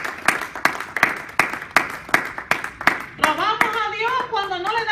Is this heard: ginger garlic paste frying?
no